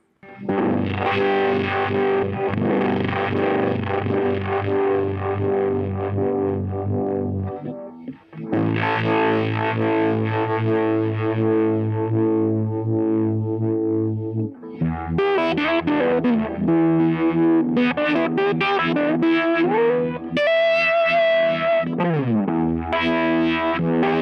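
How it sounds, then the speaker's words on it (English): Distorted electric guitar chords ring out with a swirling, wavering modulation, followed by a busier run of notes and bends, loud and continuous. "Now with gain and modulation."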